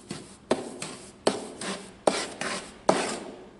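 Bricklayer's steel trowel slicing and furrowing through a rolled mortar bed: five distinct scraping strokes, each starting with a sharp contact and trailing off into a gritty rasp, close up with no talk.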